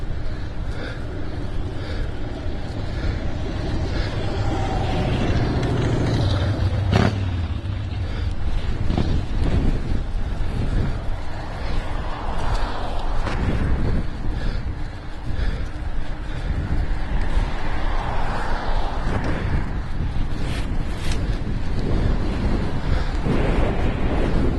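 Strong wind roars in a broad, steady rush throughout a motorcycle ride during a high-wind state of emergency on East Avenue, buffeting the microphone with constant low rumble and gusty surges.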